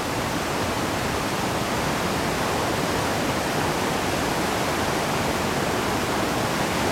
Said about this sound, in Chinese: 整个下面都是瀑布冲击形成的河流